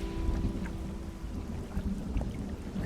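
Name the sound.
storm thunder in a fishing video game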